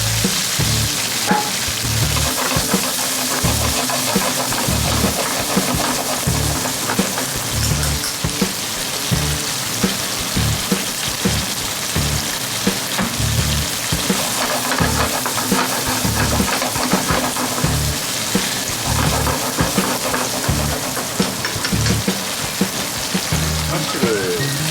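Bacon and asparagus frying in a pan for spaghettini, a steady dense sizzle and crackle that runs unbroken at close range, with faint occasional clinks over it.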